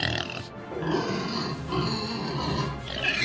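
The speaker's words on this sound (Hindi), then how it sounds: "तभी एक बड़ा सा सूअर महाराज के सामने आकर खड़ा हो जाता है।" A large pig grunting in a narrated Hindi fairy-tale story, low rough grunts and snorts over a soft ambient bed, moderately close with no talk.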